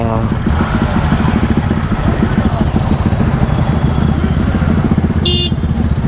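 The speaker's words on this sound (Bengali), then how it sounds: "NS 200 তো ফাটিয়ে দিচ্ছে সব কিছু, সব ফাটিয়ে রেখে দেবে NS 200 মনে হচ্ছে আজকে, যা আওয়াজ করছে ভাই" A Bajaj Pulsar NS 200 motorcycle engine roars loudly and steadily on a flyover during a group ride, with a continuous dense rumble and a brief higher-pitched horn toot near the end.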